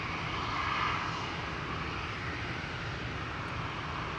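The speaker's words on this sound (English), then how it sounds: "987 A320 to Frankfurt." An Airbus A320 departs Amsterdam Schiphol bound for Frankfurt, its engines a steady, distant broadband roar that holds at an even level throughout.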